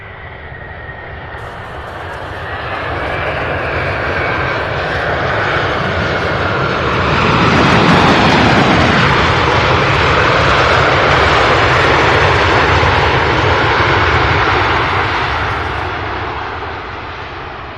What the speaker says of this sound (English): Mesa Airlines flight 6051 coming in for a landing. So we're going to go ahead and get it real quick. It's a CRJ 900.